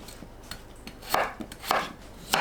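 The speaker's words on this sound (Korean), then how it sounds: "감자를 썰어주세요. 믹서에 갈아 사용하기 때문에 대충 큼직하게 썰어줍니다." A knife roughly chopping potatoes into large chunks on a cutting board, several irregular sharp thuds at close range, with quiet gaps between them.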